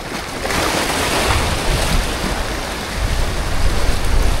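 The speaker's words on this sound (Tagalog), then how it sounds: "Sobrang lakas ng hangin guys, hirap maghagis." Strong, steady seaside wind roars across the microphone with a broad rushing noise during a fishing tournament, surf churning underneath, no voices.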